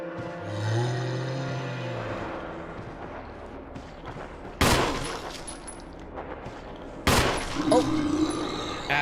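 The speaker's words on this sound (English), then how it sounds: "I gotta shoot him for myself." Two loud, sharp gunshots fired at a zombie in Resident Evil HD ring out a few seconds apart, each followed by a brief echoing decay, over quieter game sounds.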